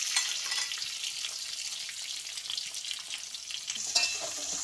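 Garlic and shallots sizzle steadily in hot oil in a wok while a utensil scrapes and stirs them, with a louder clatter near the end.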